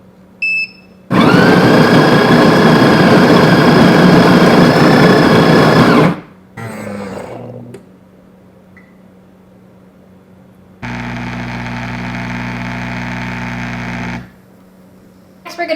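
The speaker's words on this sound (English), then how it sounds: "We're gonna go ahead and prepare a strong espresso." A Bellucci Slim Cafe espresso machine brews a strong espresso, its pump droning loudly and steadily for about five seconds, then a short clattering burst, quiet, and a second lower, steady hum from the machine.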